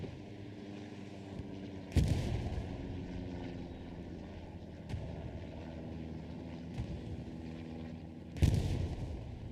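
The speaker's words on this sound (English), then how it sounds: "Artillery coming in on the defensive, possibly, or offensive" Distant artillery fire in the Hell Let Loose battlefield game lands as a few sharp, separated booms over a low, steady rumble of engine drone.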